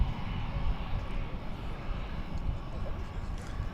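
An American Airlines Airbus A321 bound for Portland, Oregon, on its takeoff roll at DFW Airport: a steady, heavy low rumble of jet engines with a broad airy roar, constant in loudness across the whole stretch.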